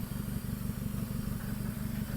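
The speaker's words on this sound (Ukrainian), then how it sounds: "Далі бачимо, їде до нас Янмар FF205" A Yanmar FF205 twenty-horsepower Japanese mini tractor approaching across a sales yard, its small diesel engine chugging steadily at a low, even throb, moderately near and without voices.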